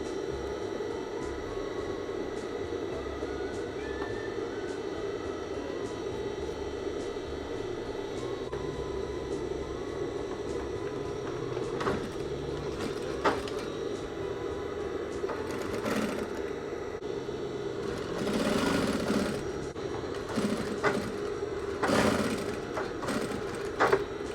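A sewing machine stitches over a hidden zipper on trousers, a steady close mechanical whirr running throughout with a few louder clicks and bursts of handling toward the end.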